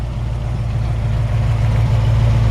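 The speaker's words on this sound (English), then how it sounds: "Great sounding engine. It's got a brand new exhaust." A 1946 Ford half-ton truck engine idles steadily with a freshly fitted exhaust, a deep, even low rumble that stays close and loud throughout with no talking.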